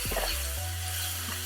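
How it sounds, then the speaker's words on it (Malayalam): Onions sauté in a pan for chicken curry, a short burst of close, steady sizzling with a low clunk at the start. "ഉള്ളി വഴന്നിട്ടുണ്ടാവും ഒരുവിധം"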